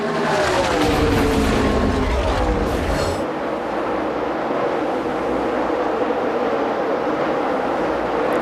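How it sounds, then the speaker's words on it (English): NASCAR Nationwide Series stock cars racing in the 2012 O'Reilly Auto Parts 300, a loud continuous roar of engines with a field of cars sweeping past, the pitch shifting, with race commentary talk underneath. "There he is, racing with Cole Witt there for a spot"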